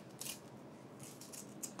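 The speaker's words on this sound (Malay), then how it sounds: "Jadi ni kalau nak cantik kena gunting." Scissors snip through the wrapper of a sago cake, a few short crisp cuts heard close and quiet in a kitchen.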